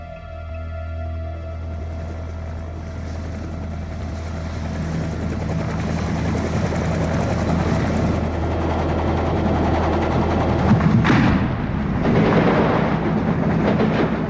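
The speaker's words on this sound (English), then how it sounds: "Helicopters approaching." Helicopters draw nearer, a steady low rumble and rotor drone that swells gradually in loudness, with no voices.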